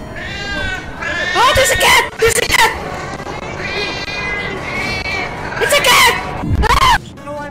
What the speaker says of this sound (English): Oh, there's a cat, there's a cat